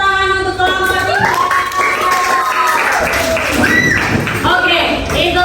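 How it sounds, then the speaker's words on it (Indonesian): Students in a classroom clap and cheer for group 3 after their presentation in a Hindu religious education lesson, lively scattered clapping mixed with excited shouting children's voices throughout. "kita beri tepuk tangan untuk kelompok 3"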